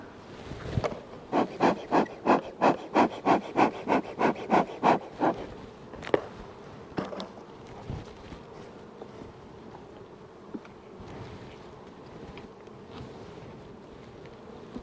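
Honeybees buzz around an opened nuc hive after smoking, under a rapid series of about a dozen rhythmic puffs or pumps early on, then scattered knocks over a steady, moderate hum.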